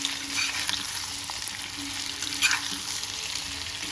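Potatoes sizzle in hot oil for Chettinad potato fry, a continuous bright hiss with small crackles and a brief stir near the middle, heard close and alone.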